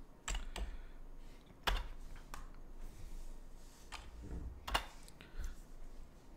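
Fingers tap out entries on a computer keyboard, a loose run of quiet, uneven keystrokes with a few harder presses standing out.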